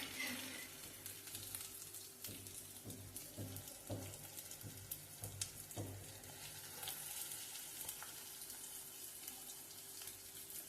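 Tempering spices frying in hot oil for a vegetable kootu, a faint, continuous sizzle with light crackles and occasional stirring taps under a low, steady hum.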